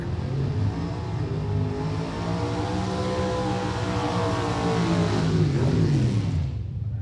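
A Ford Fairmont funny car does a burnout in the lane at a drag strip, a loud sustained engine roar whose pitch rises and sweeps before dropping away at the end.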